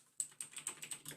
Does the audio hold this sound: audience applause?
no